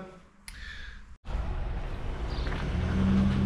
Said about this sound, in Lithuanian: išvažiuoja grožis, viso gero BMW